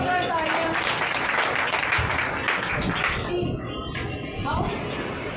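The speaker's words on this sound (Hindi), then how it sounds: "जोरदार तालियां।" Loud applause at a Sunday morning church service, many hands clapping in a dense, steady wash that fills the whole stretch, with some voices and whistling-like tones mixed in toward the end.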